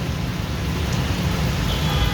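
Rain falls near a parked car as a steady, close hiss of drops with faint low road rumble beneath, brief and even throughout.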